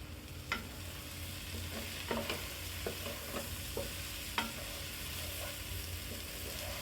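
Ginger and garlic paste is stirred and fried in a pan, giving a steady close sizzle with scattered scraping clicks of the spoon at an irregular, unhurried rhythm.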